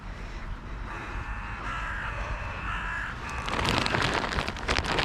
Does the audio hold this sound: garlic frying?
no